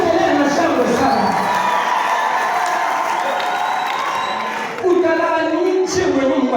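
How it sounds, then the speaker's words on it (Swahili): A church congregation at a Swahili-language service shouts and cheers loudly and continuously, crowd noise swelling with whoops and scattered voices throughout, with a brief dip before the roar returns. "Piga kelele na shangwe sana"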